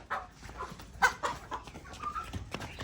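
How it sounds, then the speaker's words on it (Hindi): Rooster clucking in a village yard in rural Pakistan, several short clucks and calls at moderate distance amid faint background shuffling, with no speech. "सारा टब्बर लगा है पीछे मुर्गों के,"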